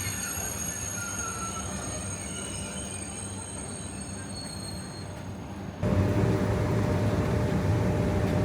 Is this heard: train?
yes